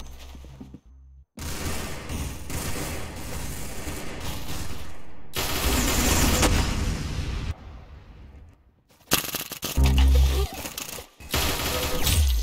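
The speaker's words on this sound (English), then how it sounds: "Very good shooting!" Rapid bursts of gunfire from the Roblox shooter game Arsenal, loud and dense with a few brief pauses and heavier blasts near the end, with no talking.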